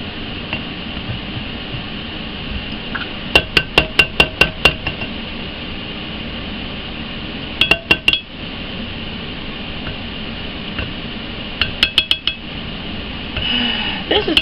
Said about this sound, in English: trying to get everything off of the blender